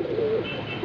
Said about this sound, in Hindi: बहुत ही अच्छा कबूतर है ये।